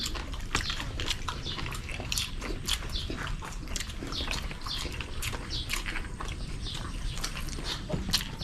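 Close, wet chewing and biting of spicy putok batok with bone marrow at a mukbang meal, with continuous crunchy, smacking bites throughout.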